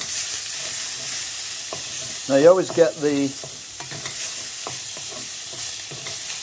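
Continuous sizzling of chicken frying in oil for a stir fry, with soft stirring scrapes, while a person speaks briefly over it.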